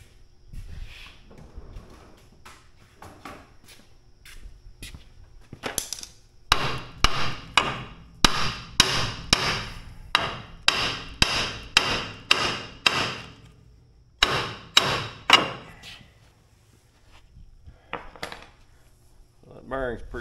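Hammer blows on a backhoe wheel being knocked loose from its axle, a run of sharp metallic strikes in uneven bursts with pauses between, close and ringing, with quiet stretches before and after.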